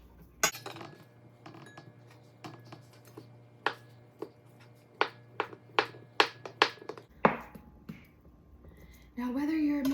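Bite-sized stir fry pieces, cut for a Blackstone griddle stir fry, drop into a bowl as a series of sharp, uneven clinks and taps, fairly close and alone, with a voice starting at the very end.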